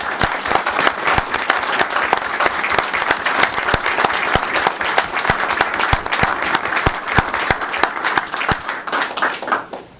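Audience at a town council meeting applauds after a speech, a loud, steady burst of dense clapping with sharp individual claps standing out, running about ten seconds before tapering off at the end.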